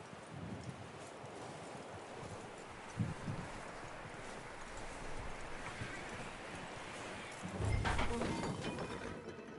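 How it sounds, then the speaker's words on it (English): Horse hooves clip-clop at a steady walking pace in Red Dead Redemption II, fairly quiet against a windy outdoor background, with a louder thud near the end. "That looks like a decent horse."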